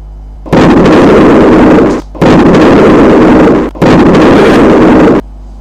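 Three loud, sustained comedic gunshot blasts, each roaring for over a second with a short gap between, fired during a mock tiger hunt in British Raj India.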